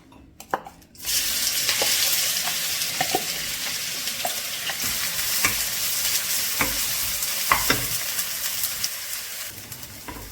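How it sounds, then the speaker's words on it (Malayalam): Crushed garlic and curry leaves hit hot coconut oil in a heated pan, erupting into a loud, steady sizzle after a short quiet start, with occasional scrapes and clicks of stirring throughout. "ചൂടായ ചട്ടിയിലേക്ക് വെളിച്ചെണ്ണ ഒഴിച്ചിട്ടുണ്ട് ഇനി നമ്മൾ ചതച്ച് വെച്ചിരിക്കുന്ന സാധനങ്ങളൊക്കെ ചേർക്കാം"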